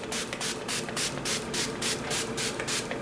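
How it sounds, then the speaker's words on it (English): Setting spray misted onto a face, a series of about a dozen quick, close, wet hissing bursts in a steady rhythm. "I'm going to use my Project Beauty Spray Set Go because this is very, very wet."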